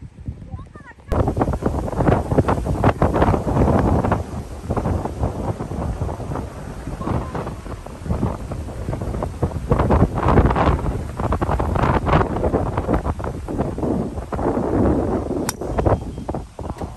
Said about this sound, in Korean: 아, 바람 장난 없다.